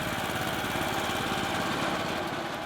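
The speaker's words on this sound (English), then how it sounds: "So here's the topper machine. It's basically like a big lawnmower." Tulip topper machine working the flower fields of North Holland, a constant loud, rough engine drone with heavy rattling vibration, close by and steady with no pauses.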